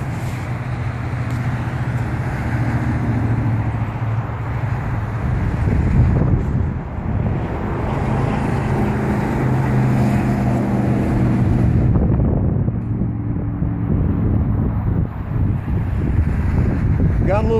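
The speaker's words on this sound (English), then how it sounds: "Got a little bit of wind today" Wind buffets the microphone outdoors while a 350QX V2 quadcopter flies at altitude, a loud continuous rushing roar that swells and eases in gusts throughout.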